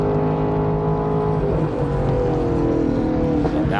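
Race cars battle at Road America in a GLTC race, a Honda S2000 against a Porsche Cayman. Loud engines drone with pitch shifting and overlapping as they sweep through the Moraine toward turn 5.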